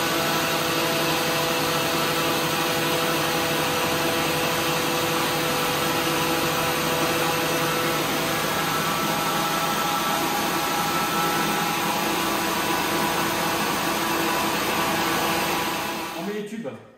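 Yarn twisting machinery in a wool spinning mill runs as a loud, dense, continuous mechanical whir and hum, unchanging throughout before cutting off at the end.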